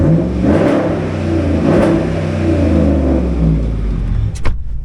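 A healthy 5.7L Hemi V8 in a 2014 Dodge Ram 1500 Longhorn Limited runs up close with a deep, steady rumble, briefly revving before a sharp click near the end.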